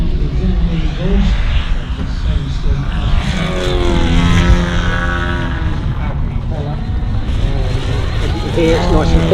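A CARF Chipmunk model aircraft at a Weston Park air show runs its engine with a steady, fairly loud drone that continues under an announcer's voice.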